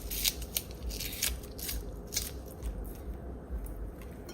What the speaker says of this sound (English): So we have 2 stalks of scallion here, escallion, green onion, whatever you guys call it. So we're gonna cut it up on it right away.